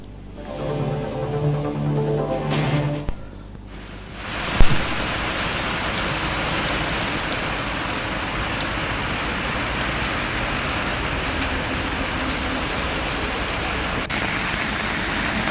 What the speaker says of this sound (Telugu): మరోవైపు తెలంగాణలో కూడా వానలు పడుతున్నాయి.